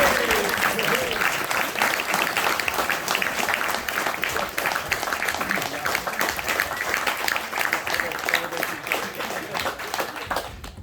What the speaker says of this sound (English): Let's give Toby a round of applause